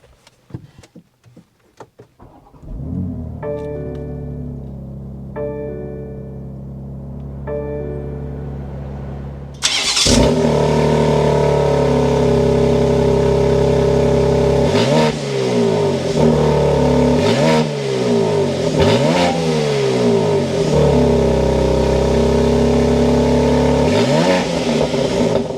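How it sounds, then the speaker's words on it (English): A 2023 BMW X3 M Competition's inline twin-turbo engine cranks and fires, settling into a steady idle before a series of sharp, loud revs rise and fall close by, with no talking. "start it up so you can hear that exhaust note"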